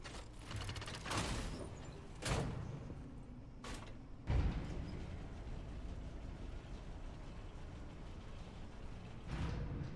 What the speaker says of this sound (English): And we have another elevator.